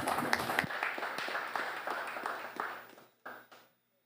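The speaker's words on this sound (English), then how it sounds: "I would like us to give them another round of applause" A small audience at a community budget consultation claps in a brief round, scattered individual claps fading out into near silence before one final clap.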